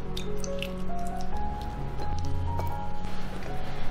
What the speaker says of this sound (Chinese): 原贝水跟香菇水倒在一起